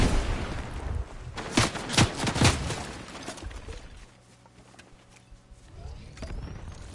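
Gunfire in the video game Fortnite crackles in repeated sharp bursts during the first few seconds, then fades to quieter scattered shots and background game noise.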